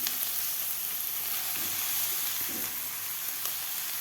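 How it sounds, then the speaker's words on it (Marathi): Grated carrot fries in ghee in a large wok, giving a steady close sizzle with occasional soft stirring scrapes and no talking. "आता आपल्याला 3 ते 4 मिनिट ह्या तुपामध्ये किस परतून घ्यायचा आहे."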